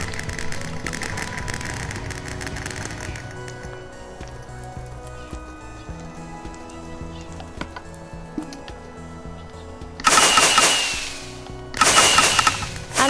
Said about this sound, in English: I'm still gonna send some more fireworks off until it stops going.